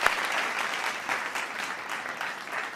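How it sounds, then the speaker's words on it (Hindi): An audience applauds at an Independence Day poetry event, steady clapping that continues for a few seconds at moderate volume. "तालियां तालियां एक बार"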